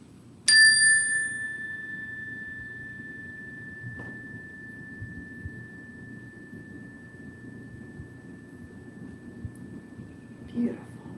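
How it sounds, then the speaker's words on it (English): A yoga chime struck once with a light tap rings out with a clear, bright tone that sustains and slowly fades over many seconds, alone in a quiet room apart from a faint second knock near the end. "This is the chime. So listen to the sound it makes when I ring it."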